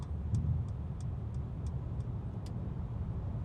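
A car's turn signal ticks in a quick, even rhythm, about three clicks a second, clear over the low rumble of the engine and road noise while driving on a highway bridge.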